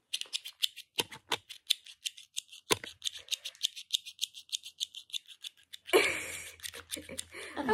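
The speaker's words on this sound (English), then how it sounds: "I'm in love with my new scissors that I got." Scissors snip repeatedly in a quick, even rhythm of crisp close-up cuts, followed by a louder rustling, crinkling sound at the end.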